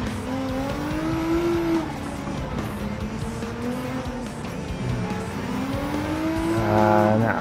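A Gr.B rally car in Gran Turismo 7 revs hard, its engine pitch climbing and dropping through gear changes, close and loud, with tire squeal and another car nearby.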